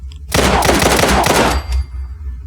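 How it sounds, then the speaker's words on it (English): A modern automatic rifle from the Modern Weapon Pack mod for Fallout 4 fires a loud, rapid burst of about a second, then it stops and a faint mechanical tail follows. "Automatic. I missed with like almost all of those shots."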